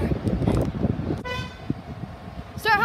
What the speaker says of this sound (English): Start honking, guys.